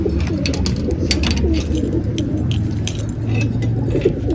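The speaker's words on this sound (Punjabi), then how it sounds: "ਜੰਦਾ ਵੀ ਖੋਲਦੇ ਆ ਇਹ ਆ ਲਓ ਬਾਬਿਓ ਜੰਦਾ ਦਿੱਤਾ ਇਹ ਖੋਲ" Metal keys jingle and clink in short bursts as a padlock is unlocked, while pigeons coo steadily in the background.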